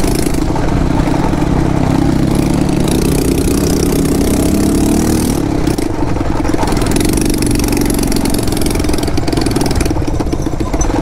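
A motorcycle engine idles with a loud, harsh exhaust, a steady close rumble with slight clatter throughout, and a few faint voices in the background.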